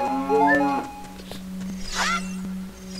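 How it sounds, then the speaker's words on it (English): A cow in The Legend of Zelda: Ocarina of Time gives a couple of drawn-out, tonal moos over a steady game hum, clear and fairly loud. "There's a cow here"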